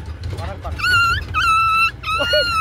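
A dog whimpering and yelping in high, drawn-out whines, close and loud, with several wavering cries in a row outdoors in a village.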